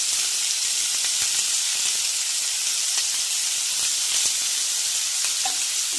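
Curry leaves hitting hot oil after onion and green chillies throw up a loud, steady sizzle and hiss that runs without a break, close and clear, with a few soft crackles and stirring taps.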